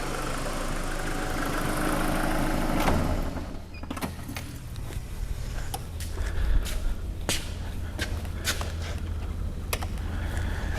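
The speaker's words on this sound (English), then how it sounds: "I'll just turn the car off." A car engine idles with a low steady hum during a coolant temperature sensor fault check (P0118), then cuts out, leaving faint clicks and creaks after shutoff.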